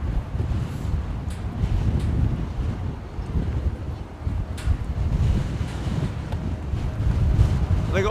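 Strong gusty wind buffets an outdoor microphone at London Heathrow Airport in a continuous low rumble that rises and falls, with faint talk underneath.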